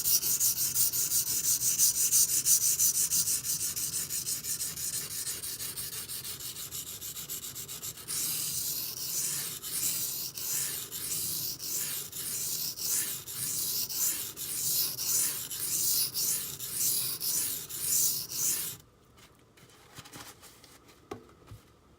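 A Benchmade Griptilian knife with a 440C steel blade is sharpened by hand, with continuous rasping strokes that shift into a quicker, regular back-and-forth rhythm, then stop near the end.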